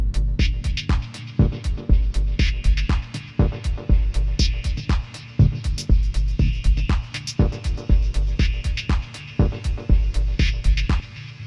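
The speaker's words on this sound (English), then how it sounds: "I have set up a more simple beat and it sounds a bit like this" Simple electronic beat with punchy kicks and crisp hits in a steady rhythm, each hit trailing into a roomy convolution reverb tail.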